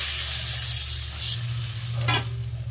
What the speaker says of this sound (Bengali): এই মশলাটা আমার কষা হয়ে গেছে, আমি জল দিয়ে দিলাম